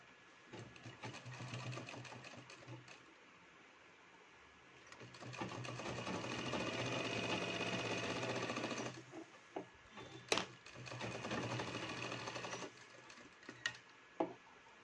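A sewing machine stitches palazzo pants in bursts, its steady mechanical whir running for several seconds at a time between pauses, broken by a few sharp clicks and taps as the fabric is handled.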